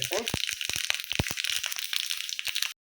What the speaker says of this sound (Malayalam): ഞാൻ വെളിച്ചെണ്ണയാണ് ഒഴിച്ചിരിക്കുന്നത് നന്നായിട്ട് ചൂടായിട്ടുണ്ട് നമുക്ക് കുറച്ച് കടുക് കൊടുക്കാം കടുക് നന്നായിട്ടൊന്ന് പൊട്ടി